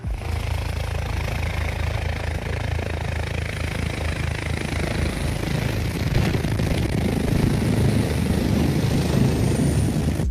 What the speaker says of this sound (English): This helicopter landing in snow